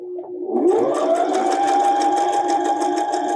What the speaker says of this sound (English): So we're going to sew down here towards the very end.